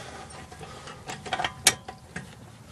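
A ratchet socket wrench turns a front brake bolt on a 2010 Hyundai Sonata, making a short run of close mechanical clicks and ratcheting ticks, with one sharper click near the end.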